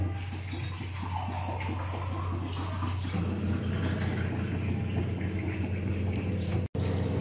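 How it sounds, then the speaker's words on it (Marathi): Water is poured steadily into a pot for dal palak, a continuous splashing, filling sound close by over a low background hum, with a brief cut near the end. "आपण बघू शकता पाणी टाकलं आहे"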